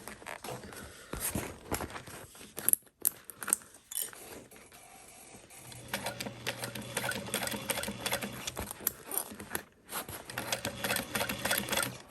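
Sewing machine stitching the lining of a handmade convertible backpack, its rapid mechanical whir coming in several bursts separated by short pauses and clicks, heard close by.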